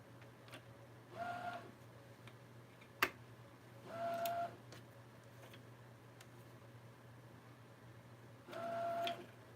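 A sewing machine stitches in three short bursts while taking in a blouse, each a brief whirring run separated by pauses, with a steady low hum and a single sharp click between, quiet and close.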